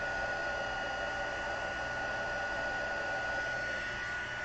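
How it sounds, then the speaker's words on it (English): A heat gun for heat embossing blows a steady, even whoosh with a constant hum, holding at one level throughout with no talking. "when you do a triple or a double heat emboss"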